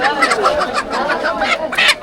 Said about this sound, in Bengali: যে দেশি মুরগি বলি এই মুরগিকে আর মুরগি চলে যেতেছে